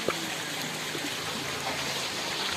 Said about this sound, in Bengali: ঝর্ণার পানিগুলো এখান দিয়ে স্রোত চলে আসে